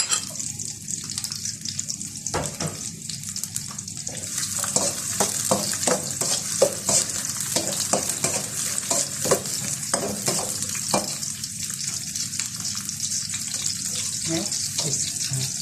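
Garlic and onion sautéing in a pan, a continuous close sizzle with scattered clicks and scrapes of stirring, with no voices.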